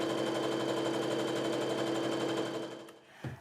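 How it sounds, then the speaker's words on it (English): A sewing machine runs steadily, stitching quilt pieces together, with a fast even mechanical whir close by that continues for most of the clip before slowing and stopping near the end, followed by a short thump. "lift up your presser foot, slide the next one under, and start sewing"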